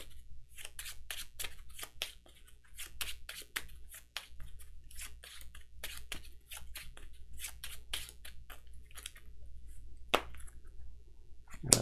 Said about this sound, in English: He needs to shuffle.